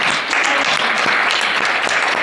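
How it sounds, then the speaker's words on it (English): A room full of people gives a sustained round of applause for a group of mentored girls at an inspiration workshop, loud, dense clapping steady throughout. "give these ladies a round of applause"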